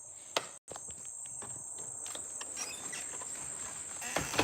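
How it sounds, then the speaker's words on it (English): Many insects, not cicadas, heard through an opening door, keep up a thin, constant high-pitched whine over faint outdoor background, with a few soft knocks and shuffles near the start and end. "There's so many insects."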